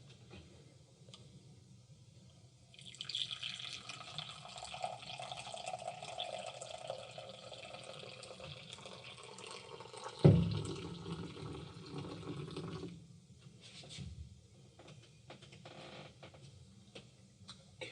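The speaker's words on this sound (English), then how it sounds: "let's just go ahead and pour the coffee and see what I get" Brewed 365 City Limits full city roast ground coffee poured into a cup, a steady liquid stream running for about ten seconds, close and moderately quiet, then tapering off.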